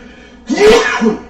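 One loud, abrupt sneeze close up, a quick explosive burst with a short trailing exhale, in otherwise quiet surroundings.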